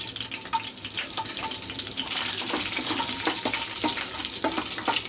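Whole spices such as cloves, black pepper and cinnamon stick frying in oil in a kadai, a steady close sizzle with light scraping and clinks of stirring, no voices.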